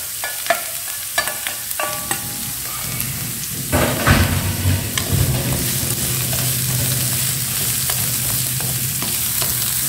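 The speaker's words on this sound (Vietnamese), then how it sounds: "Khi hành các bạn phi thơm lên như này nha thì mình sẽ cho phần cà rốt và su hào vào." Carrots and kohlrabi stir-fry in hot oil with fried shallots, crackling in a continuous close sizzle and hiss. A spatula knocks and scrapes the pan a few times early on.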